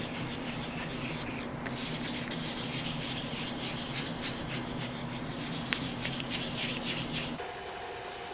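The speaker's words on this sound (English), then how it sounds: "And start sanding it down." A plastic car headlight is wet sanded by hand with 2000 grit sandpaper, giving a steady, close, gritty rubbing that continues without pause and shifts in tone near the end.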